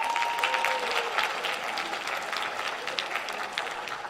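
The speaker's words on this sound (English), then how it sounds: "Clap it up for our student leaders." An audience at a school No Place for Hate panel applauds its student leaders, with a dense burst of clapping from a sizable crowd that stays strong and then slowly tapers off.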